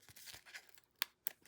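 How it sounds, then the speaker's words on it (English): Backings being peeled from dimensional foam adhesive pads on a black cardstock craft piece, a few soft close tearing rasps followed by two sharp crisp snaps as the strips pull free. "I'm going to peel off the backings"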